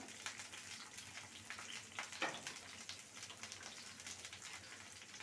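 Garlic cloves and green chillies frying in a pan for a brinjal mash, a faint, steady crackling sizzle that runs evenly throughout with no voices.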